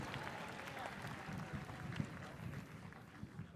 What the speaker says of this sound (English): please give your parents a round of applause they certainly deserve